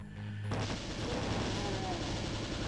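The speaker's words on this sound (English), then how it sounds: "So I'm just going to shoot this arch vial in the face" A burst of Doom 2 gunfire at an Arch-Vile erupts suddenly after a brief quiet start, then rolls on as loud, dense, rapid-fire shooting that fills the rest of the moment.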